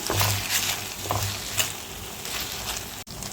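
Semiya kesari stirred in a pan with crushed camphor: a continuous soft sizzle with scraping spoon strokes against the pan, close and fairly loud, no talking.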